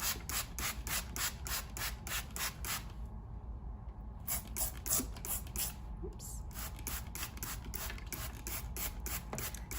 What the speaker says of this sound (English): I'm going to spray our sand to represent heavy rains.